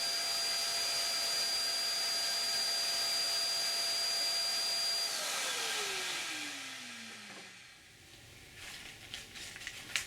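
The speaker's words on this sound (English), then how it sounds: "I trim one side first with a planer and sander, before I turn the raw paddle." Power planer and sander trimming one side of a wooden Aleutian kayak paddle, a steady high whine that holds for several seconds and then winds down in pitch as the tool spins to a stop.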